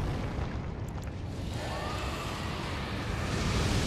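A fiery pyromancy explosion from the Elden Ring video game lands as a dense, sustained roaring burst of flame and rumble, loud and continuous for several seconds.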